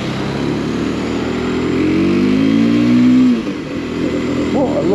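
A Mondial Piega 125cc motorcycle rides along, its engine droning steadily and rising in pitch as it accelerates, then dropping off sharply before picking up again; wind rush runs throughout.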